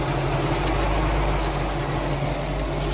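A car engine with an overheating problem idles with a steady low rumble and broad mechanical hiss, loud and unchanging throughout.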